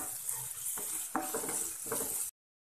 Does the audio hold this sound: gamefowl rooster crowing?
no